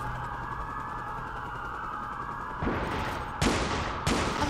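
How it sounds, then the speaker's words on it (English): Gunfire in the video game Watch Dogs comes in sharp bursts near the end of the clip, rising over a steady game background hum, with a few loud shots standing out. "Jack, I'm getting the copper you're shooting at by going around the back"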